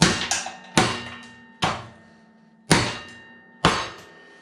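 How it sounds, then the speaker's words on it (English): Metal filings being tapped off a John Deere 455 mower deck spindle part, five or six sharp metallic knocks at irregular intervals, each ringing briefly before fading, close up with no talk. "you can just kind of tap it off like that"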